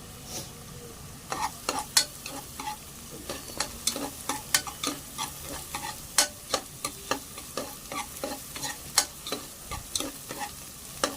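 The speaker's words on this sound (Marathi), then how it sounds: "हिरव्या मिरच्या टाकल्या आहेत त्या पण छान परतून घ्यायच्या आहेत" Garlic and green chilies sauté in a pan for Rajasthani panchmel dal, with frequent quick spatula clicks and scrapes over a low, steady sizzle.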